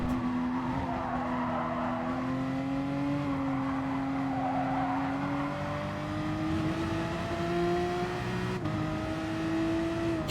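Race car in Gran Turismo Sport climbing a long uphill run after Eau Rouge at Spa, its engine note rising steadily as it strains to accelerate, a continuous close-up drone with one brief gear-change dip near the end.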